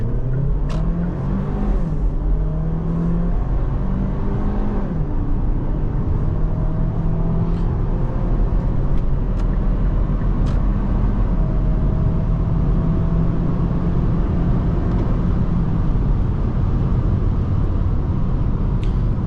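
A 2020 Kia Sportage SX accelerates hard from a standstill, its engine droning loud and close from inside the cabin, pitch climbing steadily and dropping back at gear changes, with constant road rumble underneath and no talking.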